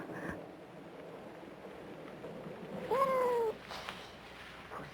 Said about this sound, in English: Pussycat! You mustn't sit on Arnie